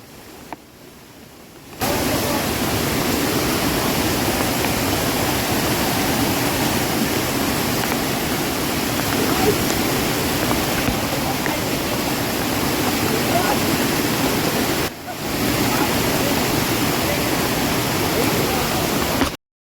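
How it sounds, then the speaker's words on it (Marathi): A roaring waterfall at Rangnagad fort during monsoon rain, a loud, dense, continuous rush of water heard close up, briefly dipping before resuming, with occasional voices nearly buried beneath it. "धबधब्याचा आवाज खतरनाक"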